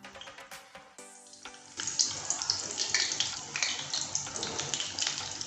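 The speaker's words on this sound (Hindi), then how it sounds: "और अब पालक से जो हमने स्नैक तैयार किए हैं उन्हें इसमें डिप करके फ्राई कर लेते हैं।" Spinach pakora fry in hot oil with a loud, continuous bubbling crackle that starts suddenly after a brief tonal passage and keeps surging unevenly to the end.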